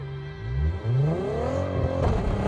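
A 1000-horsepower Nissan GT-R launches hard, its engine roaring loud and close and climbing through rising revs, with a brief dip as it shifts before it pulls again.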